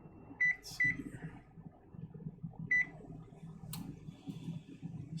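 Kitchen oven control panel beeping while the temperature is set: a few short electronic beeps in pairs and singles, with soft button clicks against a low room hum.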